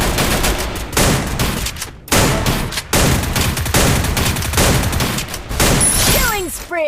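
Dense rapid gunfire from the Free Fire battle royale game crackles loudly and almost continuously in long bursts with brief pauses, with a voice talking over it and game effect sounds near the end.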